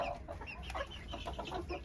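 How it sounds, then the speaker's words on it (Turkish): A rooster clucks and murmurs in short, repeated calls close by, with no crowing and no talk. "İlk tavuğumuz bu bizim. Horozumuz daha doğrusu."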